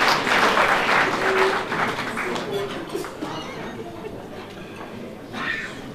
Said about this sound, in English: let us give a warm round of applause as they receive their membership certificates